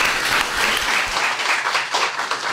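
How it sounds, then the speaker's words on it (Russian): Loud, close studio audience applause on a Russian talk show with hockey player Alexander Ovechkin, a thick burst of clapping that runs steadily throughout without speech over it. "Офиг, аплодисменты."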